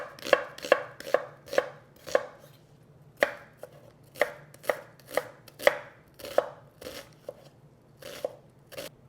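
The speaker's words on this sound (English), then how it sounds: "So we're going to start off by finely chopping an onion." An onion is finely chopped with a knife on a board, a crisp, quiet series of about twenty irregular chops close by, each a sharp tap with a short crunch, and no talking.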